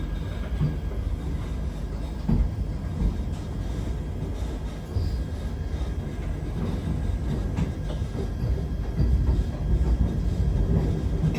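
Inside a Vande Bharat train running between Nagpur and Khazipet: a continuous low rumble with faint rhythmic rail knocks, steady and enveloping from start to finish, with no talking.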